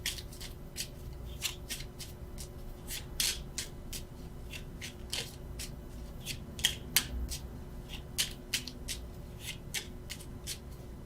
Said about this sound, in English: why I keep shuffling